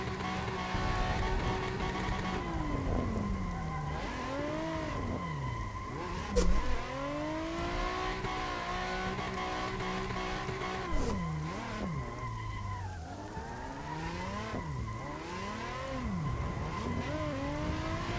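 A Nissan 350Z drifts during a thunderstorm, its engine revving up and down in repeated swoops while tires squeal in long bursts, with a couple of sharp louder bangs; no talking.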